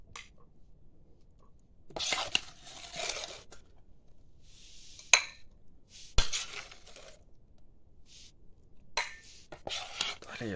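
Home food being served onto small plates, with sparse close clinks and scrapes of utensils on dishes separated by quiet pauses, plus faint rustling.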